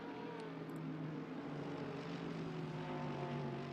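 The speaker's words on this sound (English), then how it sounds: "They are saying that you may have muted the engine noises." Engine drone from GT3 race cars at Monza in a racing video game, a steady low harmonic hum that rises slowly in pitch without a break.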